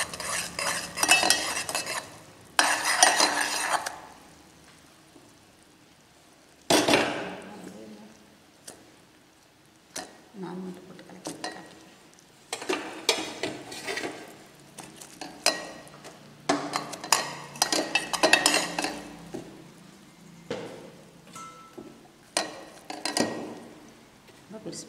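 Cardamom being stirred into dosa batter in a cooking vessel, a spoon scraping and clinking against the pot in repeated bursts of several seconds, separated by quieter pauses.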